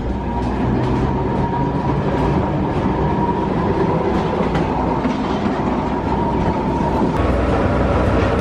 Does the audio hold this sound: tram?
yes